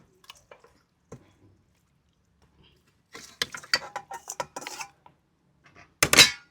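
Metal pot and utensil clatter, with wet squishy knocks, as chicken pieces are dropped into curry gravy for a Kerala-style Christmas chicken curry; a cluster of clanks midway and a louder scrape at the end, otherwise quiet.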